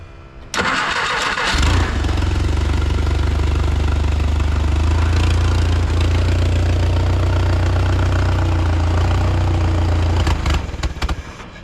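A 1951 Jeep CJ3A engine cranks briefly, then catches and settles into a loud, close, steady idle with a rough, knocking rhythm before it cuts out near the end.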